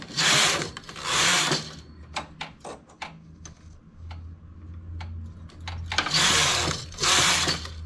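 A home knitting machine carriage swept across the needle bed to knit rows of a child's sweater, loud whooshing rattling passes at start and end with clicks and ticks between them over a low motor hum.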